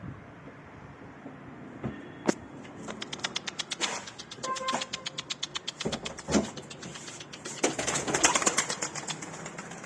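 Pigeons' wings flap in quick rhythmic bursts as they take off and flutter nearby, with a few soft clicks and rustles between flurries.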